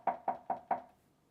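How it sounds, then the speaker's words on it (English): Four sharp knocks on wood, evenly spaced and close, with the last one ringing out briefly into quiet. "Let's knock on wood."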